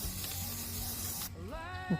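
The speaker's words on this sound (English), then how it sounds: "I'm just going to spray them a little bit of black paint" Aerosol can spraying black paint onto metal washers for DIY garden shade panels, a continuous close hiss for over a second that cuts off abruptly, followed by faint birdlike chirps.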